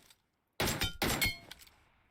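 Two sharp, crunchy headshot impact bursts from PUBG Mobile in quick succession, followed by a brief rattling tail, loud and close.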